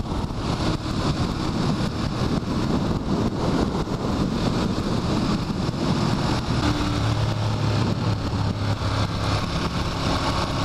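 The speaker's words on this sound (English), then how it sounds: "God, I love the sound of these motors, man. The popping, the snarling" A 2014 Ducati Monster 1200 motorcycle on a ride, its engine giving a steady, loud, close drone mixed with heavy wind rush, with no clear pops standing out.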